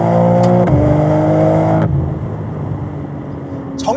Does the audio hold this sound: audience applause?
no